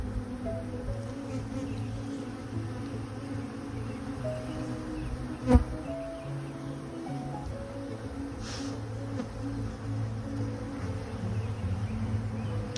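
Honeybees buzz steadily around an open beehive during an inspection, a close, continuous droning hum with a few brief louder passes as individual bees fly near, and no talking.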